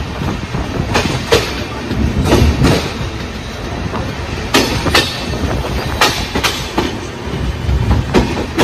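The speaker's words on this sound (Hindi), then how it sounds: "अभी जो हमारा ट्रेन पहुंच चुका है मोकामा।" The Rajyarani Superfast Express pulling into Mokama station, with loud rhythmic clickety-clack of wheels over rail joints and a continuous rolling rumble from inside the train.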